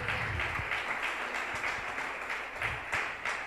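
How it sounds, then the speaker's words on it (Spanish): A church congregation claps for the Lord during a Spanish-language service, with continuous group applause at medium loudness and a few louder individual claps. "Dale un aplauso al Señor"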